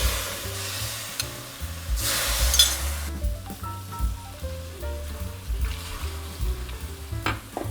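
Tofu with pickled cabbage and minced pork pan-frying in oil, a steady close sizzle running throughout with a louder hissing burst in the middle and light stirring scrapes.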